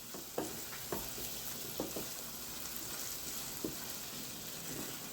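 Two garlic cloves frying in a pan for a Chinese curry pie, a steady broadband sizzle with a few soft clicks of the spatula scattered through, moderately close and with no talking.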